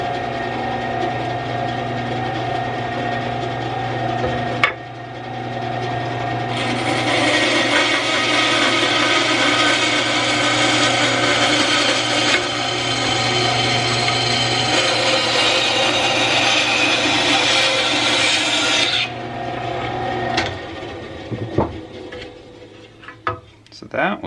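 A Wen 3.5 amp 10 inch band saw cuts through material, its motor running with a steady loud whine and blade hiss that swells when the cut starts and drops off near the end, followed by a few knocks and clatters.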